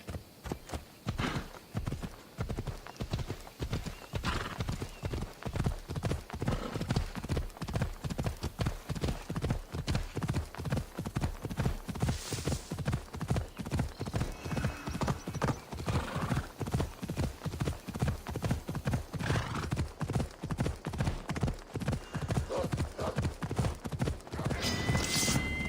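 Phobos, a horse in Assassin's Creed Odyssey, gallops with steady, rapid clip-clop hoofbeats throughout, close and loud, with an occasional whinny and no talk.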